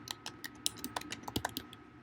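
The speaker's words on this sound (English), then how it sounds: "We can also click on Create and type our answer here." Quick, light keystrokes tap out an answer on a computer keyboard, a close, irregular patter of clicks alone in a quiet room.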